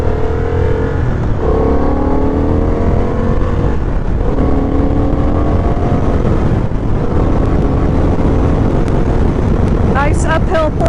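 A 2025 Honda CB750 Hornet motorcycle engine pulls smoothly uphill, its note rising through the revs in repeated climbing sweeps with wind rush over the microphone, steady and close throughout.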